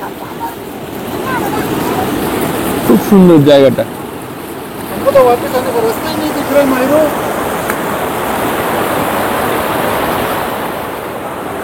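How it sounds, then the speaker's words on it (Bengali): The clear Rimbi river near Pelling rushes continuously, with a broad, fairly loud flowing wash and some wind buffeting. People talk briefly over it partway through. "দেখো একদম ঝর্ণার জল।"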